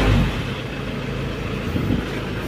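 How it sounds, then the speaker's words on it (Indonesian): Steady engine rumble from an Isuzu Panther turbo pickup with a faulty injection pump, running with the throttle held open; the drone stays fairly even with a slight swell at the start. "Kalau dihidupkan harus digas ya lur, soalnya bos pom bermasalah"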